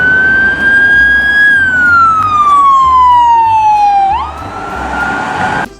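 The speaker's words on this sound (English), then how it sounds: "an ambulance." A toy ambulance siren wails loudly and alone, its electronic tone sliding steadily downward for a few seconds before jumping back up and starting another sweep.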